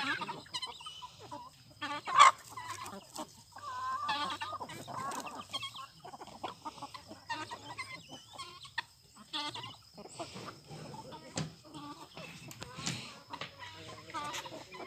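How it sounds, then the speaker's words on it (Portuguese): Chickens cluck and squawk repeatedly close by on a small farm, with a sharper cry near the start, mixed with occasional voices in the background. "Tem bastante galinha ainda, Ni."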